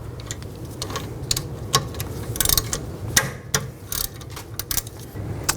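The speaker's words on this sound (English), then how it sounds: "take these two caliper bolts out, use a 14mm socket" A ratchet with a 14mm socket loosens the rear brake caliper bolts on a 2010-2016 Cadillac SRX, giving close, irregular bursts of light clicking and ticking with short pauses between and no talk.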